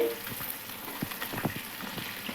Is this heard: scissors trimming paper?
no